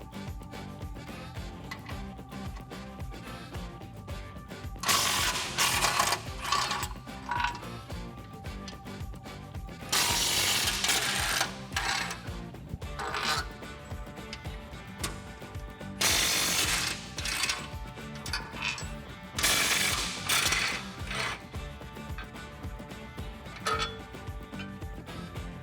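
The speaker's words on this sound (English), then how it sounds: "grab your 18 millimeter socket and remove the bolts" A hand ratchet fitted with an 18 mm socket clicks rapidly in bursts while loosening rear bumper bolts on a Jeep Wrangler JK. The bursts of pawl clicking are close and sharp, separated by quieter metallic handling noise.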